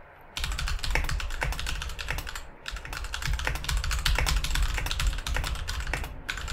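Fast, steady typing on a computer keyboard in a touch typing program, a dense, close run of crisp key clicks with two brief pauses and no talk.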